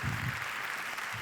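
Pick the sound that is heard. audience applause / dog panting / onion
audience applause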